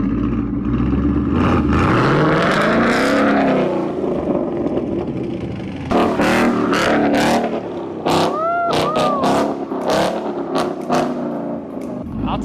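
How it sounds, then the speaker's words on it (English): A wrecked 2017 Ford Mustang GT revs hard, and the engine pitch climbs and falls. Loud tire screeches and squeals then break in as the car skids and drifts close by. "Let me do some skids then real quick."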